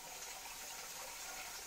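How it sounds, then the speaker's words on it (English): Waterfall on the Ouachita Trail near Queen Wilhelmina Lodge, Arkansas: a steady, broad rush of falling water heard from a moderate distance, faint and continuous with no voices. "There's the famous waterfall."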